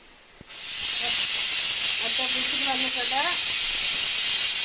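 A pressure cooker of cucumber pulissery lets off steam in a loud, steady hiss that starts suddenly and holds, while a voice speaks faintly underneath.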